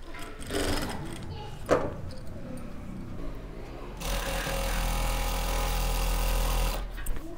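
Sewing machine stitching elastic onto the waistband of plazo trousers, with a steady mechanical whirr that runs loud and continuous through the second half after lighter handling sounds and a brief knock early on.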